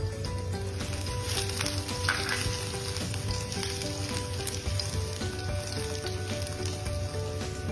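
Two chopped garlic cloves fry in hot oil in a pan, a steady, even sizzle with soft crackle that holds close and unbroken throughout, no voices.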